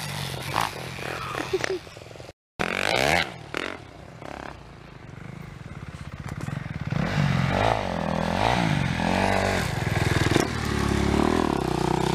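A 250cc dirt bike rides through, its engine rising and falling in repeated revving sweeps, loud and close, with clattering and scraping bursts early on and a brief dropout.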